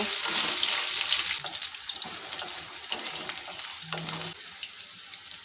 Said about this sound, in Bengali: আমি শাকগুলো একটু ভালো করে কষিয়ে নেব